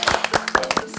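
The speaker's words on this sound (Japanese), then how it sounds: "拍手。" A quick burst of hand claps, several sharp close claps in rapid uneven succession, lasting about a second.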